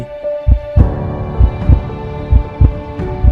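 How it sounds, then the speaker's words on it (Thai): Heartbeat sound effect with steady lub-dub thumps about every second, loud and alone over a low sustained hum, used for a segment on safety staff at a Bangkok shopping mall. "นี่คือเสียงหัวใจของทีมงาน"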